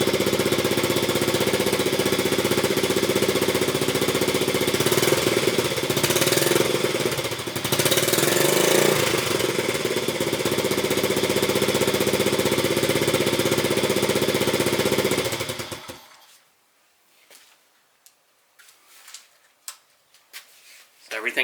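A vintage Honda 70cc minibike engine, a CT70-type single-cylinder, is kicked over and runs loud and steady with a fast, knocking putter, then shuts off near the end, leaving quiet with a few faint clicks.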